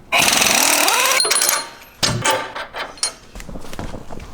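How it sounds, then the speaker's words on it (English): A loud impact wrench hammers for about a second as it removes the bolt holding the track bar to the rear axle of a Jeep JL Wrangler, followed by metallic clanks and the rattle of tools nearby. "we're going to go ahead and remove the bolt securing the track bar to the rear axle"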